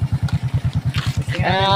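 Motorcycle engine idling just after starting, a loud, close, rhythmic low chug pulsing about eight times a second, with a voice speaking near the end.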